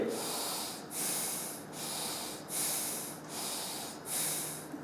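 Deep yoga breaths run in a slow, even rhythm, about six rhythmic hissing inhales and exhales through the nose, close and fairly soft, with no talking over them.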